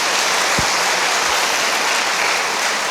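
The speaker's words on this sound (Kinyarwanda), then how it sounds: "Mureke tumukomera amashyi," A church congregation claps in loud, sustained applause, a thick unbroken wash of hands from start to finish with a couple of low thumps early on.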